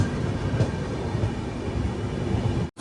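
Madgaon to Ernakulam Weekly Express rolling into platform 4 at Ernakulam Junction, a steady heavy rumble of wheels and carriages held evenly throughout, close and loud, with no voices.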